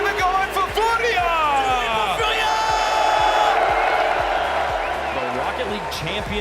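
Crowd at the Rocket League Paris Major playoffs, an RLCS 2026 esports event, roaring and cheering in a dense, continuous wash with whoops rising over it, while a voice talks loudly on top throughout.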